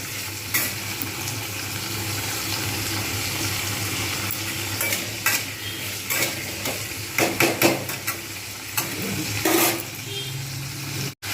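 Steady sizzling of vegetables and lentils frying in a pan, with intermittent scraping and clinks of a spatula stirring, close up and without talk.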